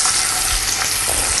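Chicken drumsticks fry in hot oil in a pan, giving a steady, dense sizzle and crackle that holds at an even loudness from start to finish with no voices.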